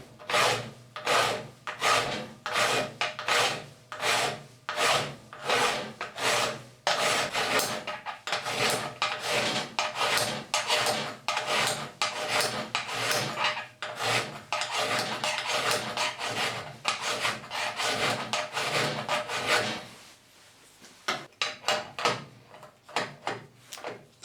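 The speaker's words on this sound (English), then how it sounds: "you can start to file a flat on it" A hand file rasping back and forth across a rounded bolt head to cut a flat, close and loud, with rhythmic strokes repeating steadily for about twenty seconds before fading to quieter scraping.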